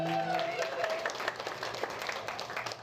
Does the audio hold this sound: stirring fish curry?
no